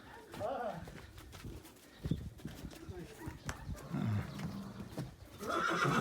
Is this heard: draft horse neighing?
yes